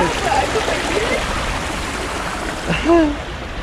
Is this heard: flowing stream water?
yes